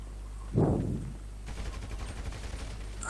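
A single loud burst of gunfire in the Grand Theft Auto V Online video game, followed by a rumbling, noisy stretch with more low crackling shots further off.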